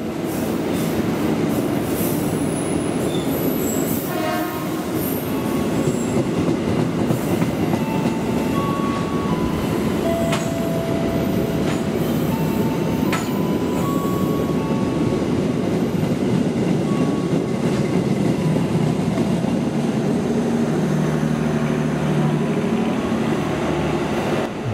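The Jayakarta 218A train rumbles steadily past on track 4 for the whole stretch, with rolling wheel noise, rhythmic clatter and occasional high metallic squeals, close and loud.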